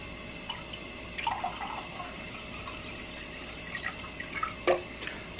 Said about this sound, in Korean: 먼저 물 두 컵을 넣어주세요